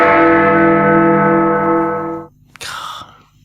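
Big Ben, the large clock tower bell in London, rings one deep, resonant stroke that hangs and slowly decays, followed by a brief burst of distant crowd or traffic noise.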